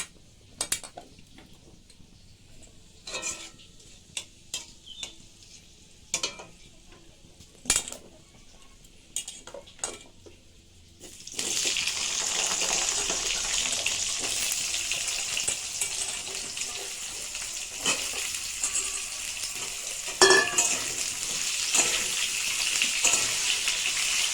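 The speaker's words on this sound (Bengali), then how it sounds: "তেলটা গরম হয়ে গেছে, ততক্ষণে প্রথমে আলুটা ভেজে নেব।" Diced potatoes frying in hot oil for a jackfruit curry. A series of separate clinks and knocks on the pan comes first, then a loud, continuous hissing sizzle with occasional clatter.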